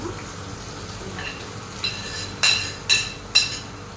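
Bitter gourd and onion frying in a pan, a low steady sizzle with a few sharp clinks of a utensil against the pan near the end.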